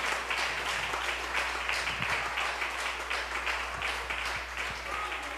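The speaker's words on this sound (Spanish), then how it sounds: "Dale un aplauso a Jesucristo, hermano." Congregation applauding during a Spanish-language church service, steady dense clapping from a crowd that fills the whole stretch, with some voices mixed in beneath the claps.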